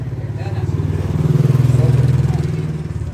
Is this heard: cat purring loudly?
no